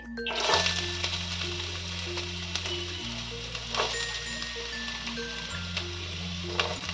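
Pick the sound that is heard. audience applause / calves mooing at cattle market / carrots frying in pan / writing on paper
carrots frying in pan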